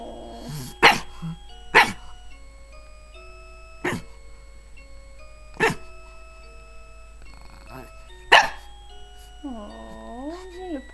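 A pug named Loki lets out about five short, sharp grunting barks spaced a second or two apart, close to the listener, while a person talks in the background.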